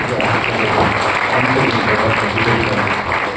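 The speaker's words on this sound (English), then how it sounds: "I think she deserves a big round of applause." An audience at a guest lecture on Kerala gives a steady, dense round of applause for the author, sustained and even at a moderate distance throughout.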